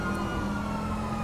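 Steady wailing police sirens in a video game chase drone over a rumbling engine bed, loud and continuous, with no speech.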